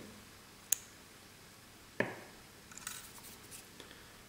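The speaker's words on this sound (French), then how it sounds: "je vais couper l'excédent de ma boucle à dubbing" Scissors snip excess dubbing loop thread during fly tying for a March Brown dry fly, two sharp isolated clicks a second apart, followed by faint soft rustling and a light tick.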